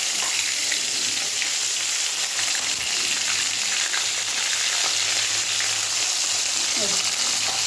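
Onions sizzle and crackle in hot oil in a pan, a steady, dense frying hiss that continues without pause, close and fairly loud.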